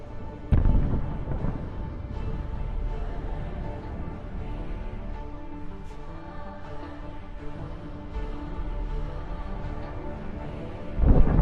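A distant tank opens fire on part of a convoy, with a sharp boom at the start and another at the end over a steady low battlefield rumble.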